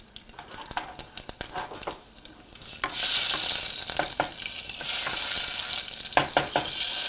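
Cumin seeds and whole spices fry in hot oil, starting with scattered crackles and pops, then swelling into a loud, bright continuous sizzle with intermittent stirring knocks close by; no talking.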